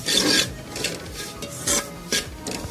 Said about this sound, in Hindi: ये सूजी को मसलसल इस तरह चलाते हुए हमने भून लिया